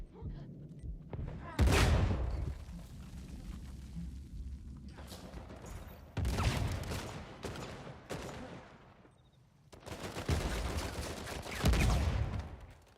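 Video-game gunfire comes in heavy bursts of rapid shots and booms, three loud volleys separated by quieter stretches, with a voice talking in between.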